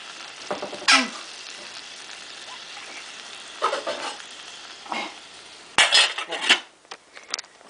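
A lid is set onto a pot of Spanish chicken and eggplant stew, giving a few scattered metallic clanks and clatters of cookware spread over several seconds, close by against a quiet kitchen background.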